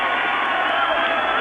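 A football stadium crowd at an Auxerre versus FC Copenhagen UEFA Cup match gives sustained applause and roars in an even, far-off wash of noise under a commentator's voice.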